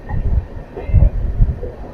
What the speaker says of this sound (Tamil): ரயில் வந்து ஸ்லோ ஆகிட்டு இருக்கு